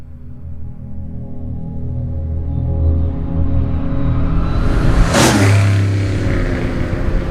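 A 1967 Pontiac GTO fitted with a Turbo Pro muffler prototype drives and revs, its loud, deep V8 rumble building steadily and then climbing in a sharp rev burst before easing back to a throaty idle.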